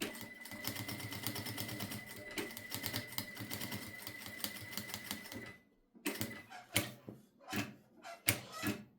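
A sewing machine stitching around the edge of a fabric bookmark runs in a fast, steady close rattle, then stops and restarts in several short bursts.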